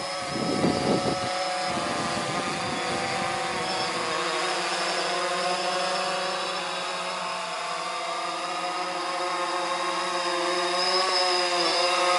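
A DJI Phantom 3 S quadcopter drone descending for a manual landing, a steady high-pitched propeller whine with layered tonal hum, close and continuous, with a few brief low thumps near the start.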